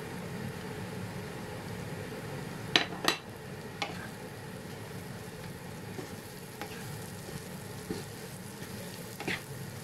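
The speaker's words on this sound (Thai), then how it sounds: "แล้วเราก็มาใส่ต้นหอมไปผัดดีค่ะ" Spring onions stir-frying with pork belly in a pan, a steady close sizzle with a few sharp clinks and scrapes of a utensil against the pan, no voices.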